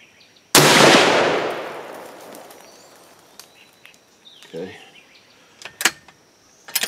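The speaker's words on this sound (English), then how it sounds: "we'll be shooting at the top left diamond" A single loud rifle shot cracks at close range during load testing with Ramshot TAC powder, its boom decaying over about two seconds, followed by faint clicks and handling noises.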